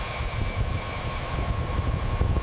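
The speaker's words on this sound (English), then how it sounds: "8 engines screaming." A B-52 bomber's eight jet engines roar at full takeoff power in a loud, steady, rumbling blast with a high whining tone running throughout.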